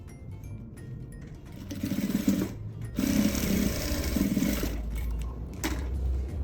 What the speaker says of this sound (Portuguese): Coloco aqui o direito com o direito e vou passar uma costura aqui